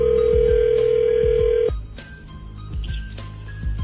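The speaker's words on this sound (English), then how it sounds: "And Shag, let's bring Lydia up on line 2." A telephone line rings on a call-in radio show, a steady electronic tone that holds for under two seconds and then cuts off, with small clicks and line noise continuing after.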